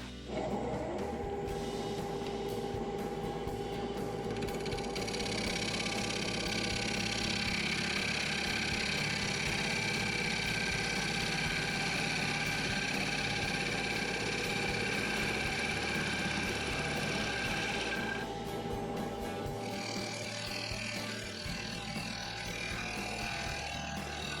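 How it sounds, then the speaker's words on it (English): Wood lathe spinning an applewood bowl at 1000 RPM while a freshly honed 3/8 inch bowl gouge cuts, a continuous steady motor hum with a brighter scraping cut layered on top that eases off near the end. "So I'm going to be turning this at 1000 RPM using a 3/8 inch bowl gouge, which I just freshly honed."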